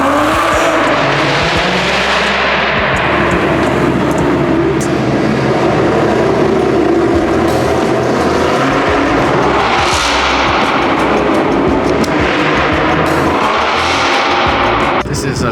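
S650 Ford Mustang engines roar and rev loudly and continuously, with sharp rising surges of acceleration, like powerful cars revving nearby at a car meet.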